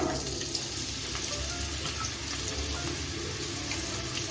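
Chopped onion dropped into hot oil with bay leaves in a pan, giving a steady hiss and crackle of frying, close and continuous with no talking.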